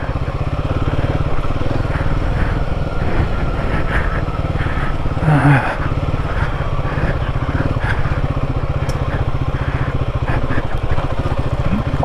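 Motorcycle in first gear with the rider standing on rough, rocky trail in the Smoky Mountains between Suches, Georgia and Ducktown, Tennessee; a steady, loud, close engine drone runs throughout with a brief clunk near the middle.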